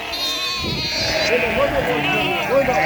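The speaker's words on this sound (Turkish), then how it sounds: "İçeride kuzu var ona göre." A lamb bleats repeatedly among farm animals kept indoors, with several short wavering calls rising over steady background noise while someone talks throughout.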